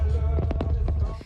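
A massive fireworks show on the National Mall booms in a few rapid, muffled bursts over a thick low rumble, heard briefly and from a distance.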